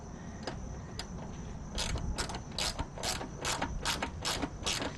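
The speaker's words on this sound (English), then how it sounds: "Hold that, and then let's tighten this down." A ratchet tightening bolts on the mid-frame heat deflector of a 2018 Harley-Davidson Sport Glide FLSB, several sparse clicks at first, then a rapid run of close, crisp ratcheting bursts, with no voices.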